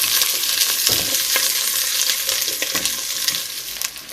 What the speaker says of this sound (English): Right, so in the big pan, just going to put my onions in. Just want them fried off